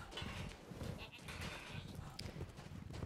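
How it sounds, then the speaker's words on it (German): A goat in the video game Resident Evil Village bleats in a wavering, nasal cry, heard close over a background of game ambience and rustling. "Wow, Ziege!"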